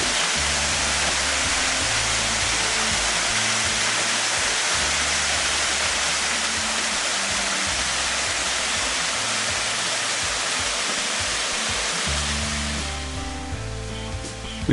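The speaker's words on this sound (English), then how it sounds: "Eventually, we arrive at the falls." A waterfall on the Great North Walk between Patonga and Wondabyne roars in a steady, dense wash of falling water that holds evenly and eases slightly near the end, with no voices.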